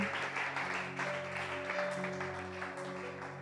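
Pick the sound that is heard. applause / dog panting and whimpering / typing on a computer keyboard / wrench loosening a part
applause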